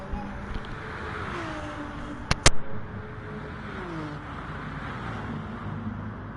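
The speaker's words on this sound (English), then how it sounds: "So the guys are just heading out now in their warm-up lap, heating the tyres." Race cars in a sim racing game idle and roll out on a warm-up lap at Autodrome Lago Maggiore, including a retro BMW, with steady engine drone and a couple of sharp clicks, while a commentator talks over it.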